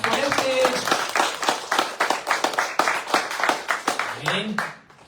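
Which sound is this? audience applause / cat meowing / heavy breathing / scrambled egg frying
audience applause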